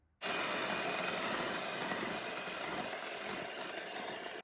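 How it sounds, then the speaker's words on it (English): Electric mixer beating cooled melted chocolate into batter, a steady close whirring drone that starts abruptly and runs continuously with a slight rattle, no talking. "Make sure that it's cooled. And mix it well using the mixer."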